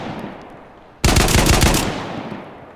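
A single VSD rifle shot from the DayZ video game cracks out loud and sharp after a second of quiet, followed by a short rolling echo that fades away.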